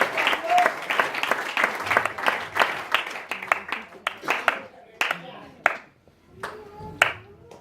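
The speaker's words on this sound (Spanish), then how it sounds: "Denle un fuerte aplauso al Señor para que se sienta bien" A church congregation claps during a Spanish-language sermon, giving loud praise applause; distinct rhythmic hand claps come in bursts, thinning into scattered, separate claps toward the end, with some voices mixed in.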